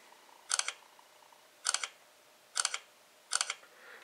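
Four crisp shutter clicks from an LG G Pad tablet camera taking pictures, spaced about a second apart and close by in a quiet room, with no talking.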